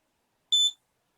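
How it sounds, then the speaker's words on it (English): An IR sensor room counter sounds its room-full alarm: a single short, high electronic beep, clear and alone in silence. "You can hear the alarm is on."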